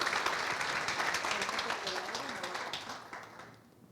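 A church audience claps steadily for a nervous volunteer, a dense wash of hands that stays loud and even before thinning out near the end; a voice can be heard faintly underneath.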